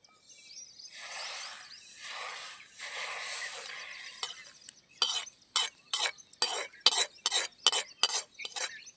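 Semolina poured into melted jaggery in a pan for lapshi sets off a soft hissing sizzle, followed by about ten rhythmic, close scraping strokes of a spoon stirring against the pan, with no voices.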